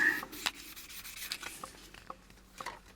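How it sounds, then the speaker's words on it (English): Sandpaper rubs along the edge of a skull-head ghost box build in short scratchy strokes, close and fairly quiet, with no voices. "let's just sandpaper this edge here"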